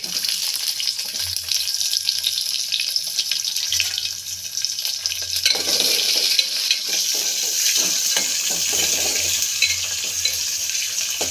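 Chopped onions fry in hot oil in a pan, on top of cumin and mustard seeds, with a continuous loud sizzle and hiss that builds partway through and keeps going steadily.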